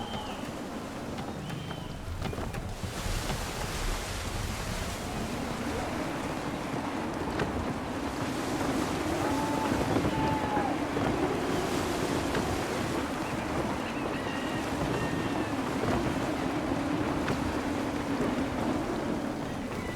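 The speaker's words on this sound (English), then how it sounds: "Gusty winds can be difficult to manage." Wind gusts over open water with a steady wash of waves while sailing a ship in Assassin's Creed 3, a continuous broad roar holding even loudness throughout, with no voices.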